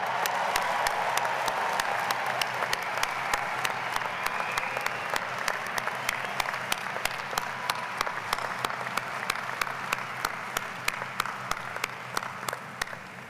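An audience at a doctoral hooding and master's recognition ceremony claps for graduates, dense sustained applause filling the hall before gradually thinning, with sharp individual claps standing out near the end.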